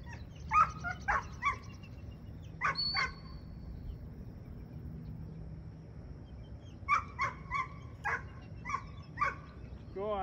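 A dog barks in several quick bursts of two or three sharp barks separated by pauses, fairly close over a low background hum.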